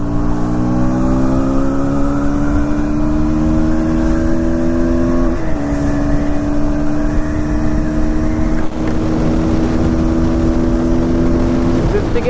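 KTM Duke 160 motorcycle cruising in gear, a loud steady engine drone held near constant with a slight pitch shift midway, close and continuous with no talk.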